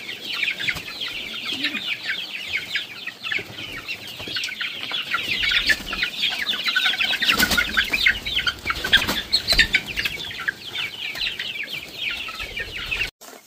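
A flock of chickens, grown from chicks, cluck and chatter continuously nearby, with bursts of wing flapping and scuffling rising in the middle and a sharp knock at the end.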